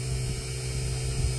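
A vacuum pump pulls a deep vacuum on a 24V DC 13,000 BTU R134a mini split air conditioner being converted for off-grid use, giving a steady, even electrical drone with no breaks.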